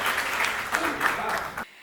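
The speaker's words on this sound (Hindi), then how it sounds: "एक बार जोरदार तालियां शशि श्रेया के लिए" Enthusiastic audience applause for a young woman poetry performer at a shayari recital, a dense, steady wash of clapping lasting well over a second before cutting off abruptly into near silence.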